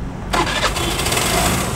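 Suzuki Burgman scooter engine cranking and catching, then running at a steady, rough low idle, loud and close, with no one speaking.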